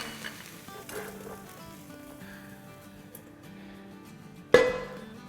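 Keema, minced meat, dry-roasting in a pan on the stove: a steady low sizzle with scattered stirring scrapes, capped by a sharp louder clatter near the end, with no talking.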